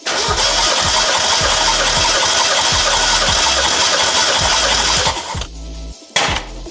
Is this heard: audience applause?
no